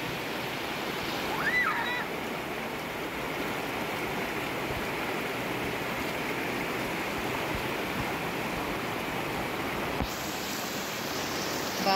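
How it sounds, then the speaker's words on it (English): El Paraiso River in Mindanao, Philippines, flowing with a steady, full rush of water that holds at an even level throughout, with a faint brief chirp early on. "Yan ang El Paraiso River."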